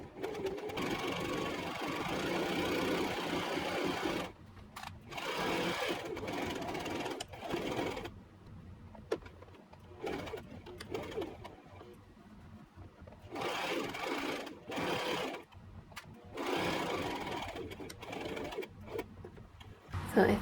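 A sewing machine stitches a simple cotton top in bursts of fast, steady mechanical whirring, stopping and restarting several times between short pauses, close by and moderately loud.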